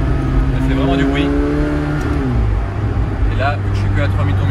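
Car engine revving at about 4000 rpm with its exhaust valves open, like the valve systems on many Ferraris; a loud, steady, droning exhaust note with shifting pitch throughout.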